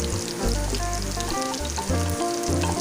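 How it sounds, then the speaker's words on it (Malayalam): Mustard seeds, onion and curry leaves fry in hot oil in a pan, giving a loud, continuous crackling sizzle with low rumbling stir noises that swell and drop, close up, with no voices. "കടുകിട്ട് ഉള്ളി, കരിയാപ്പാല ഇട്ട് നല്ലപോലെ ഒന്ന് വറുത്തെടുക്കണം."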